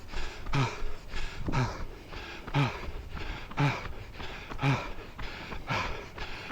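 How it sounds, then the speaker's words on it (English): Heavy, rhythmic panting from a runner during a parkrun in Christchurch Park, climbing a slight incline, with a sharp breath roughly every second, steady and close to the listener. "he can hear my heavy breathing"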